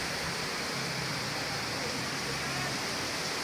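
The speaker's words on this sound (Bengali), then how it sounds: "ভালোই বৃষ্টি হচ্ছে, সাথে বাতাস ছাড়ছে।" Steady rain falls with wind in the evening, a dense, constant hiss with no break and no voices.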